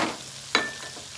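Chinese fried rice (nasi goreng Cina) frying in a pan, a steady soft sizzle with one sharp louder hiss or stir in the middle, close and alone without talk.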